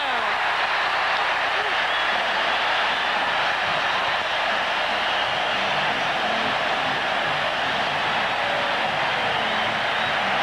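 A capacity stadium crowd at a 1983 Raiders–Steelers divisional playoff game roars in a dense, unbroken wall of cheering and applause after a touchdown, loud and sustained throughout, with a broadcast announcer talking underneath.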